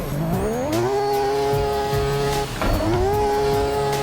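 A drift car in the racing game Assetto Corsa revs hard and loud, its engine climbing twice in rising sweeps with tire squeal mixed in, close and alone without talk.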